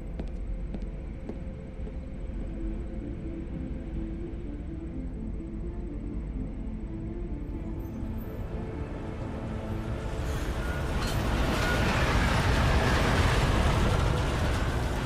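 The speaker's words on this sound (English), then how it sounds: "Just getting off the train now." A train in the video game Deus Ex Mankind Divided rolls into a station, a continuous low rumble and rattle building louder toward the end as it arrives.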